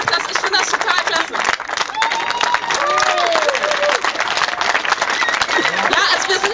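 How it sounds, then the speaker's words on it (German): An audience at a rally in Bad Aibling, Germany, claps in loud, dense applause with some cheering and crowd babble mixed in, sustained and close throughout. "nochmal einen fetten Applaus für dich"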